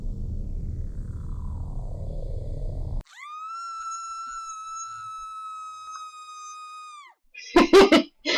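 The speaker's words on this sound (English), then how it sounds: "I love that scream. It fits perfectly with the tutorial." Ao-oni style horror video game: low rumbling ambience cuts off, followed by a long, sustained, steady high scream tone holding for about four seconds, then a brief harsh burst at the end.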